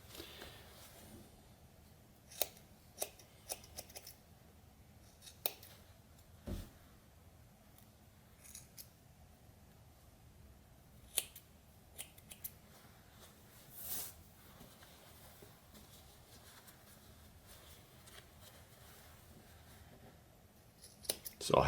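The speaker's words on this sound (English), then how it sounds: "So I'll have my scissors at an angle." Scissors cutting through sheepskin shearling along a seam, a series of quiet, scattered snips and crunches against a near-silent background.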